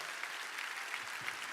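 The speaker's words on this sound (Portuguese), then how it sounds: "Vamos aplaudir essas pessoas que vão chegando" Church congregation applauding steadily as people come forward during a service, a continuous dense clapping from a large crowd in a big reverberant room.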